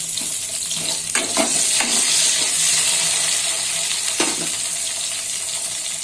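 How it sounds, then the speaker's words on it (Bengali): Black cumin, chopped tomato and green chili sizzle and fry in hot oil, giving a steady, close crackle with a few sharper spatters as the ingredients are stirred. "ফোড়ন দেব একটু কালো জিরে, আর দেব টমেটো কুচি, আর দিয়ে দেবো ওটা কাঁচা লঙ্কা"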